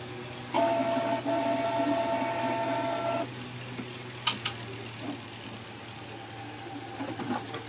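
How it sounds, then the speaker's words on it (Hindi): A Canon G2010 inkjet printer powers on and its carriage initializes, giving a steady mechanical whirring with a short, brief clicks near the end, close and moderately loud with no talking. "कैरेज वगैरह पूरा इनिशियलाइज होता है"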